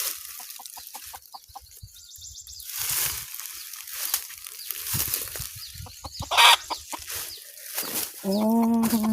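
Chickens cluck in short bursts amid a busy outdoor scene, with a rising squawk near the end; the birds sound close and moderately loud.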